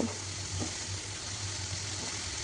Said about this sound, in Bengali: যে পেস্টটা করে রেখেছিলাম ওই পেস্টটা দিয়ে দেবো পেস্টটা দিয়ে ভালোভাবে ভাজা করব।